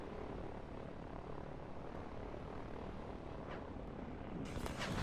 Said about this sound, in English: The helicopters are coming in to attack the SAM units